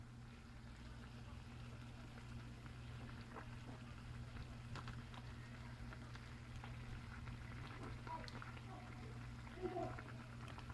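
Balls of puff puff dough frying in hot oil, a soft continuous sizzle with faint crackles and pops over a steady low hum.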